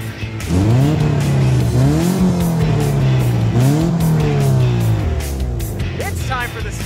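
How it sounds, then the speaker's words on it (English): Car engines revving hard with tires squealing, rising and falling engine pitch in repeated sweeps like a race or drift run, loud and close, with a voice briefly over the roar. "Rev up your engines!"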